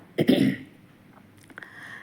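A single short cough close by from someone with a lingering cold, followed by faint rustling and a couple of soft clicks in an otherwise quiet home kitchen.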